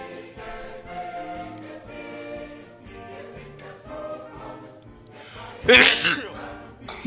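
A single sharp sneeze bursts out near the end, loud and close, following a stretch of quieter talking in the background.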